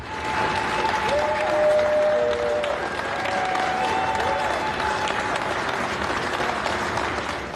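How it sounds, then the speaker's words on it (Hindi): Staff at a US Covid vaccination site applaud as workers carry out boxes of vaccine, a sustained round of crowd clapping with some scattered cheers and voices mixed in. "बाकी कर्मचारी तालियां बजाने लगे"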